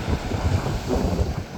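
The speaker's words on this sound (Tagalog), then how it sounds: "Lakas ang hangin ngayon." Strong wind buffets the microphone in loud, low rumbling gusts that continue without a break.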